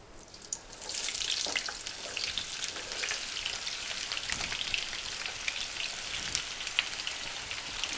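Potatoes for aloo bhujia fry in vegetable oil in a pan, a close, crackling sizzle that starts abruptly after a second and keeps up a dense, popping hiss throughout.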